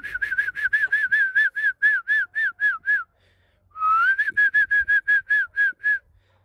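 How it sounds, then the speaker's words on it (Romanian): A person whistles to call a flock of geese across a home yard, a fast run of short rising two-note whistles, a pause of about a second, then another steady burst, loud and close. "le-am chemat așa fluierând până aici"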